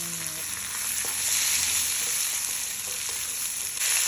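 Jackfruit sizzles hard as it is stirred into frying spice paste in a pan, a bright crackling hiss with a few scraping knocks from the stirring.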